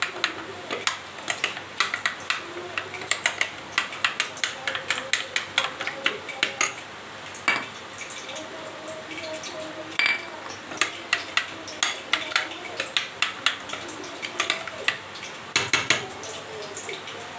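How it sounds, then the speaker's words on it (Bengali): Pakoda batter is stirred and mixed in a bowl with salt and water, a long run of quick clinking and scraping taps, close and moderately loud, with no talk. "এবার ভালো করে গুলে নেব।"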